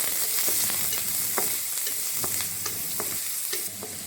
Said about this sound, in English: Add in the chilli. Okay, stir it.